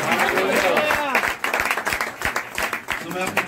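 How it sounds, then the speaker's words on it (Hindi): A church congregation at a village meeting applauds with loud, dense clapping, voices calling out over it, and the clapping thins into scattered claps toward the end. "क्या हम यीशु मसीह के नाम को धन्यवाद दे सकते हैं अपने आवाज को, अपने तालियों को बजा कर?"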